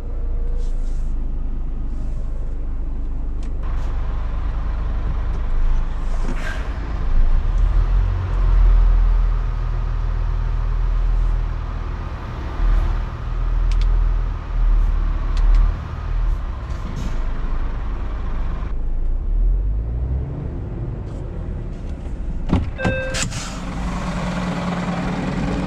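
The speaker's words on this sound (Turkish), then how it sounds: "Dorsenin kıçını yukarı kaldırıyorum ki biraz bassın yere." A Scania truck idles loudly and steadily while its trailer's rear is raised on snowy ground, with a low engine rumble throughout and a sharp air-brake hiss near the end.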